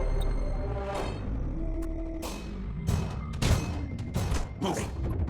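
Energy weapon arrays firing from Necron warships in the space battle game Battlefleet Gothic: Armada 2, a dense run of booming shots and crackling blasts that recur through the clip over a steady low rumble.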